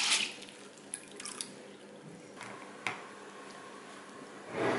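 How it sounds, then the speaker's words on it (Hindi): Brown chickpeas are washed in water, with soft sloshing and a few scattered drips and splashes, quiet and close, and a brief louder swish at the start and end. "और सबसे पहले तो हम ये जो चने हैं इनको धो के भिगो देंगे"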